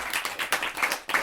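Audience clapping for a poet at the close of a poetry reading, a short burst of hand claps with uneven, sharp peaks, close and fairly loud with no voices over it.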